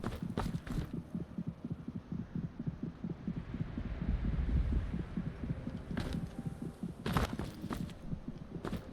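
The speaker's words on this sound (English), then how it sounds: "It sounds like a heartbeat, right?" A video game heartbeat throbs in a steady, rhythmic low pulse, heard close and fairly loud, with a few sharp clicks and knocks breaking in.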